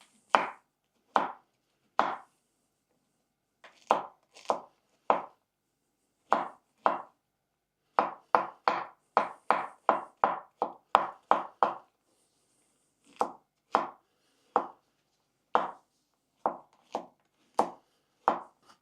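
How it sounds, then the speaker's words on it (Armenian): A knife chops mushroom stems finely on a board in a home kitchen, a long series of crisp quiet taps that come in uneven bursts and quick runs, with no talking. "Հիմա մոտիկից ցույց կտամ սունկի պոչերը ոնց է պետք կտրատել"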